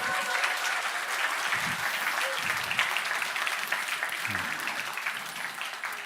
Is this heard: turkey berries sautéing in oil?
no